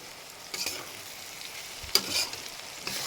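Eggplant and fish fry in oil with a quiet, steady sizzle, punctuated by a couple of brief stirring knocks and scrapes.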